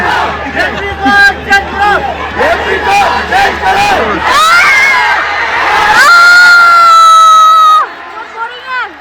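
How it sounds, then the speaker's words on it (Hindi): Crowd at a state football match in Arunachal Pradesh, Lower Subansiri versus Namsai, shouting and jeering loudly in a dense continuous roar with individual yells rising above, swelling toward the end before dropping off. "ये ग्रुप लोग चिल्ला रहे"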